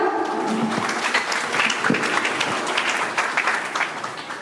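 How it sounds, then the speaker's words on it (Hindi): A crowd at a school Independence Day celebration in Kota breaks into loud, continuous applause, the thick patter of many hands clapping at once for a few seconds. "जोरदार तालियां"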